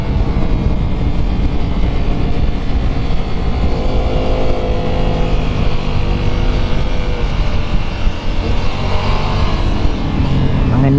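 A 2021 Ducati Multistrada V4S, a 170 hp motorcycle, roars on a race track with a loud, sustained engine drone and wind rush that holds steady throughout, with no clear gear-change breaks.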